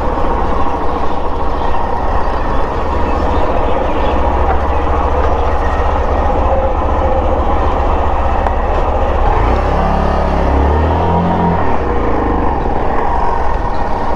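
A metro train at Satyajit Ray station gives a loud, steady rumble that fills the whole stretch, with a deeper roar swelling near the end.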